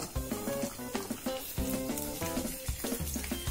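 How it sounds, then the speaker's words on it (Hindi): Almonds, cashews, raisins and walnuts sauté in a pan, a quiet sizzle broken by repeated scraping stirs and clinks in an uneven rhythm. "ड्राई फ्रूट सौते हो जाने के बाद उसको हम एक प्लेट में निकाल देंगे"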